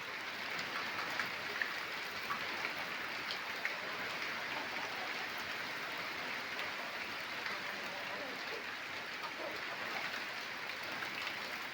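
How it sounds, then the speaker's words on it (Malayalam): Light summer rain beginning to fall outdoors, a steady soft hiss of drops on surfaces, even and continuous throughout with no talking. "മഴ ചാറാൻ തുടങ്ങി."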